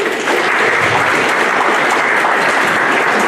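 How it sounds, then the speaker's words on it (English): A large audience at a mobile home summit in Vallejo, California bursts into loud, dense applause, steady and sustained throughout with no talk over it. "Maybe you could all give yourself a round of applause."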